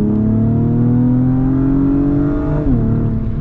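An Acura TLX Type S engine revs sharply right after a downshift, a loud, steady, close-up engine tone that climbs gradually and then drops briefly with the gear change, heard alone without talk.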